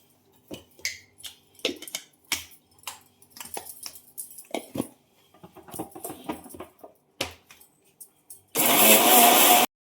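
Mixer grinder whirring as it grinds a cornflour and spice mixture, a loud steady burst at the very end, preceded by scattered kitchen clatter, taps and scraping of utensils.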